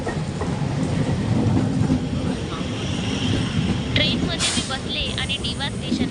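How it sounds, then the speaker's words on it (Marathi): A train arriving at Nilje station rumbles steadily nearby with a continuous low roar and rattling, with some brief high squeals near the end. "निर्जे स्टेशनवरून ट्रेन आली"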